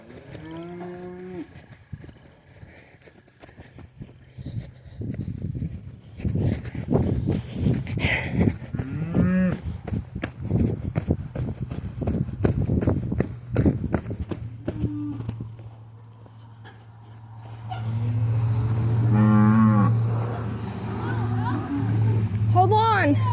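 Brangus cattle bellow repeatedly in a corral, loud nearby moos rising over a steady low engine hum, with people talking and calling out between the calls.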